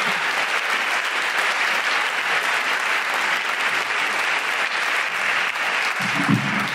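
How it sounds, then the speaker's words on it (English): A live audience applauds at a podcast recording for International Migrants Day, with dense, sustained clapping from many hands throughout. "Please put your hands together for Mrs. Deborah Frances-White!"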